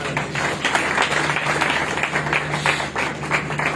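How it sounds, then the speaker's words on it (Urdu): Steady applause from a church congregation, dense and continuous throughout, with a low hum underneath. "تالیاں بجائیں"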